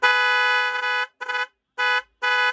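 An aftermarket car horn sounds loud and close in four blasts, a long opening blast followed by three shorter ones with gaps between them, with no talking.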